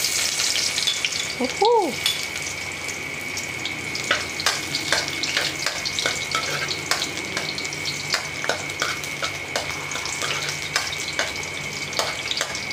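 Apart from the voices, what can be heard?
garlic frying in a pan for kare-kare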